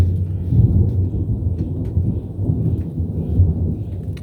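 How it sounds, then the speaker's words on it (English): Low, rolling thunder during a thunderstorm, a deep continuous rumble that swells and recedes in waves with soft rain noise underneath. "The thunder is just so rudely interrupting me"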